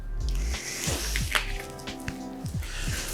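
Water poured from a bottle into a glass, a close splashing trickle with small gurgles and clinks over a few seconds, no talking.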